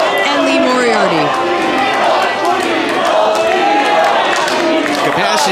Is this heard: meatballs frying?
no